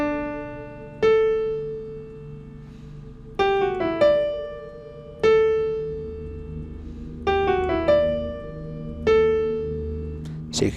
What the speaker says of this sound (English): That's what a perfect fifth sounds like.